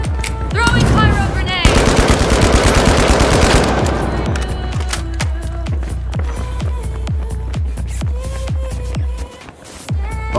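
Rapid automatic gunfire from a deployed turret in the shooter game The Finals, loud and close, with dense bursts early, then steady repeated shots alongside explosions and game effects.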